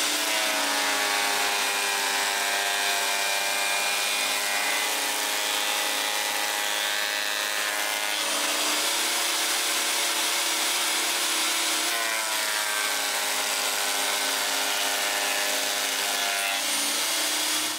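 A loud, continuous machine whine of a Vevor M1B LS3305 13-inch thickness planer shaving wood, with several passes marked by brief shifts in pitch and a steady high-pitched drone throughout.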